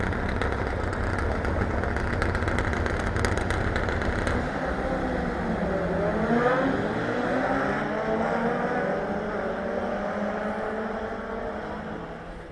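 Race cars roar around the Lydden Hill circuit as a loud, continuous engine drone. One car sweeps past mid-way with a rising then falling pitch before the noise slowly fades into the distance.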